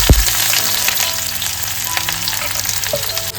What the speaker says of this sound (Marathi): तेल मस्त गरम झालेलं आहे फोडणीसाठी राई घालून घेतो एक चमच